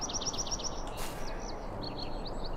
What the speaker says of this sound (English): It sounds like crows.